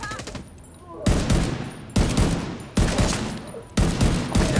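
Bursts of gunfire in The Division 2, a co-op shooter set in New York: four loud volleys of rapid automatic fire, each breaking in abruptly and holding for close to a second before the next.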